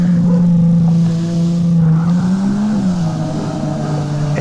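A car drifting in a console drift simulator video game, its loud engine droning continuously and wavering in pitch as it slides, with no talk over it.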